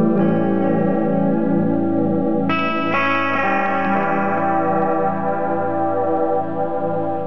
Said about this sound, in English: You can instantly hear more of a pitch shift there. Instead of chorus, you can hear the pitch actually shifting.